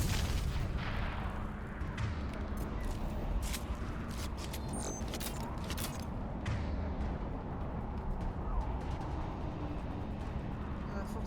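Sci-fi weapon fire in Mass Effect 2 on the hardest difficulty during the Arrival DLC, a dense, continuous barrage of shots and booms with rapid sharp cracks throughout, the battle loud and constant.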